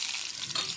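Khesari lentil fritters frying in hot oil in a pan, a steady close hiss and crackle that continues evenly throughout with no voices.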